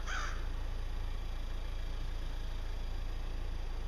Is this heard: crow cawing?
yes